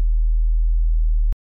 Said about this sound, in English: So here in Serum, we're going to load sine waves on every oscillator